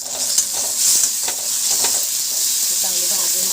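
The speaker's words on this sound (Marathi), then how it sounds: "चांगली भाजून घ्यायची पेस्ट।" Ginger, garlic and tomato paste frying in hot oil with browned onion, a loud continuous sizzle with a few stirring scrapes, close up.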